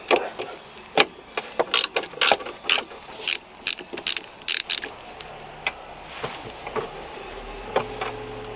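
T25 screws being undone on a car light cluster while fitting tow bar electrics: a close series of sharp ratcheting clicks for about five seconds, then faint chirping and quiet handling sounds.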